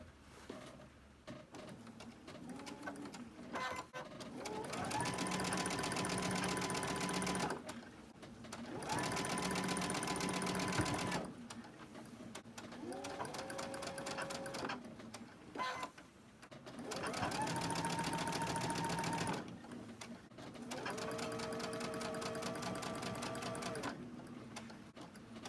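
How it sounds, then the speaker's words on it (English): A sewing machine stitching a quilt seam of pine tree fabric strips in a fabric studio, running in five loud bursts of several seconds each, separated by short pauses. "So now let's go ahead and we'll sew that."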